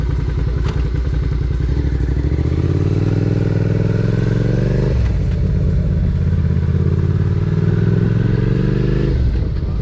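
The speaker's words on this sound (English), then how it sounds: "you hold in the clutch lever, you go one click down into second, and then a click into neutral" A motorcycle idles and runs with a deep, throbbing engine note, close and loud, the pitch sliding through two drops as the rider shifts down from third toward neutral.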